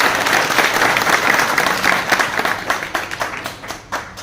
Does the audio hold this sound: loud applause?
yes